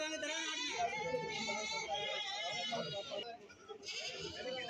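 Goats bleating at a livestock market, repeated close calls overlapping one another amid crowd chatter and someone speaking nearby.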